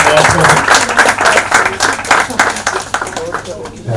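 An audience at a homeopathy book launch bursts into lively applause, dense overlapping claps sustained and fairly loud throughout, with a voice faintly mixed in.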